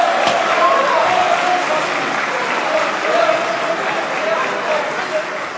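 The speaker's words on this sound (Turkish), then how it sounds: "Biz de bu grubu alkışlıyoruz arkadaşlar." A parliamentary group in a Turkish assembly hall breaks into sustained applause, dense clapping spread across the room at steady loudness for several seconds.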